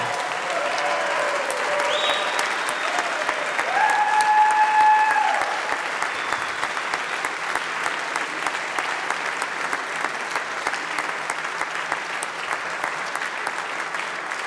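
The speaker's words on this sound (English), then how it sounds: "give them a huge round of applause for everything they do for us" A long, sustained round of applause from a large audience in the House chamber, with dense crowd clapping that swells briefly and then continues steadily at an even level.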